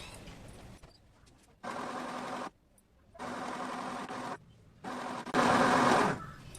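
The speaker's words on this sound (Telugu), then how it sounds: "కుట్టేసుకోండి." A sewing machine stitches a salwar top in several sustained whirring runs, each a few seconds long, broken by short quiet pauses, the last run loudest and close.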